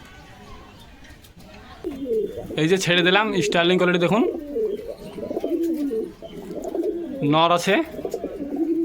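Pigeons, including males, coo in low, wavering rolls through a collection offered for sale, close by, while someone talks loudly over them in bursts.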